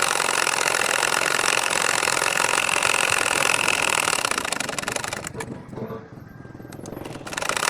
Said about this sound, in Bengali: এখন এই সাইডে দেখেন আবারও সেলাই করে নিচ্ছি, আবারও এর সাইডে সেলাই করে নিব।